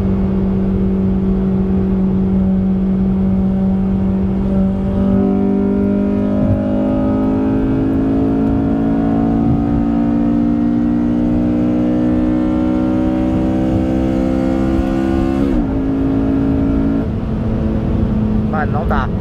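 A Honda Civic Si engine revving under driving load, its steady droning exhaust rumble climbing slowly in pitch, loud and close throughout, with a brief shift near the end and people talking over it inside the car.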